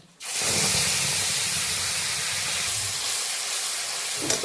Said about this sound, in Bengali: এবারে ফোড়নটা আমি দিয়ে দেবো।